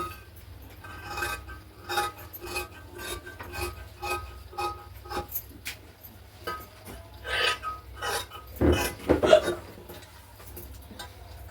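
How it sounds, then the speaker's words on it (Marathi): Scissors snip through blouse fabric while cutting a sleeve, giving a series of close, soft rasping cuts with a louder crunching snip near the end, over quiet background. "आता ही झाली आपली बाहीची कटिंग कटिंग करून घेऊया"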